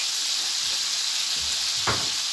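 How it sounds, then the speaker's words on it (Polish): Butter and sprigs of rosemary sizzle steadily in a hot pan for steak, a continuous close hiss with a brief louder crackle near the end. "wrzucamy dwie gałązki rozmarynu i dorzucamy pół kostki masła, żeby się tutaj roztopiło"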